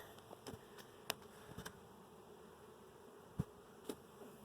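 Honeybees buzzing faintly around an open hive during an inspection, a soft steady drone broken by occasional close knocks and clicks of hive equipment, no talk.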